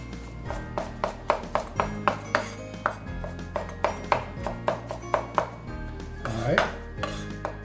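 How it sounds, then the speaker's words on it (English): Sliced garlic being chopped with a knife on a board, a fast run of sharp ringing taps in a steady rhythm, with a low background hum underneath. "They're sliced garlic. And you can just have at it. Just chop it up."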